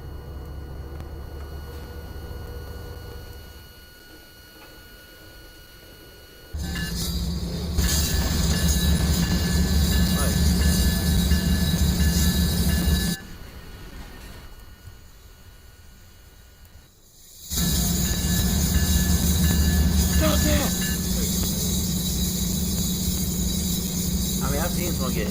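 A freight train rolls steadily in the Train Sim Classic game, its brakes released, with a continuous loud rumble and hiss that dips quieter twice before swelling back up.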